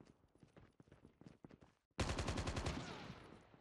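Gunfire in Call of Duty Mobile: soft clattering and light taps give way to a sudden, loud, sustained automatic burst of rapid shots that holds for the rest of the moment.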